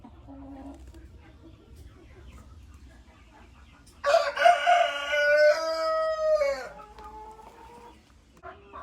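Chickens at a countryside dacha cluck softly, then a rooster crows loudly up close in one long drawn-out call, followed by a few quieter clucks.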